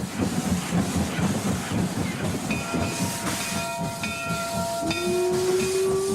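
A steam locomotive chugs with rhythmic puffs and hissing, joined by a ringing steam whistle that sounds and then holds a rising tone.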